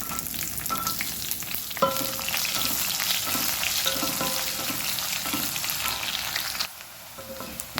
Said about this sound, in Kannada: ಈಗ ಕಟ್ ಮಾಡಿ ಇಟ್ಕೊಂಡಂಥ ಈರುಳ್ಳಿಯನ್ನು ಹಾಕೊಳ್ತೇನೆ